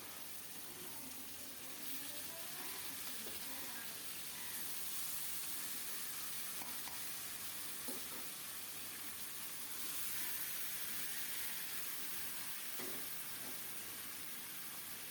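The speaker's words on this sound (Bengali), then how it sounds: "পেঁয়াজটা বাদামি হলে মাখিয়ে রাখা মাংস দিয়ে দিচ্ছি" Marinated country chicken dropped into a pan of browned onion and spice tempering, giving a steady, dense hiss of frying that holds throughout with a few faint clinks.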